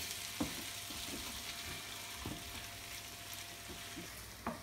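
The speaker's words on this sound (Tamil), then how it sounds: "இப்படி கொஞ்சம் ஃப்ரை பண்ணிக்கலாம்" Cashew nuts fry in hot oil with a steady soft sizzle, broken by a few small scraping stirs, quiet and close, with no voices.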